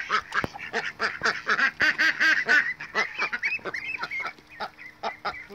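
Ducks and ducklings from a backyard flock quack and honk loudly and continuously, many overlapping calls close to the microphone with a few higher peeps, no talking over them.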